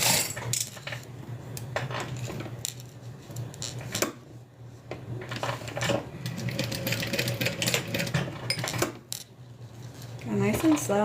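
A sewing machine stitches along each side of a fabric wristlet folded in half, its motor humming steadily under scattered sharp clicks and handling knocks for about eleven seconds.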